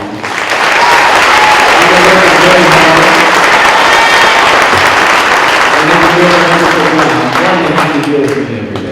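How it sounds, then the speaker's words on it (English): A crowd at a sixth grade band concert applauds the school bands, a loud sustained roar of clapping that swells quickly and holds, with cheering voices rising near the end. "can we get another round of applause for these wonderful bands?"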